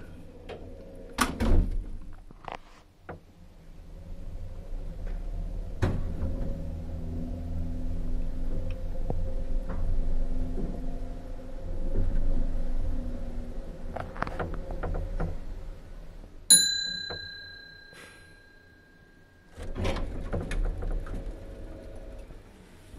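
An Otis generator-driven lift rumbles as its doors thunk open and shut, with a clear bell chime ringing out near the end over the low machinery hum; no talk.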